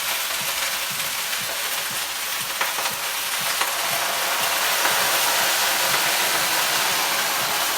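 Sukiyaki broth poured into a hot pot of beef for Japanese nabemono, a steady loud sizzle and hiss of liquid hitting the hot pan, continuing evenly with no talk.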